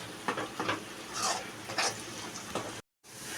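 Ground masala paste fries and sizzles in hot oil in a pan for a fish rassa, a steady crackle broken by several brief bursts of stirring, with no talking.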